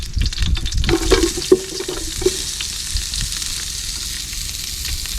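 Sliced onions hit hot oil with curry leaves for tomato rice, a strong close sizzle with a few clinks and stirring knocks early on, then a steady crackle of frying.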